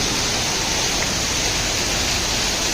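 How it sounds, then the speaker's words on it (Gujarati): Heavy rain with big drops pours down in Rajkot, a dense, loud, unbroken roar of water that stays constant throughout with no voices. "અત્યારે થયો છે મોટા છાંટાએ અને હાઈ ક્લાસ ધબધબાટી ચાલુ"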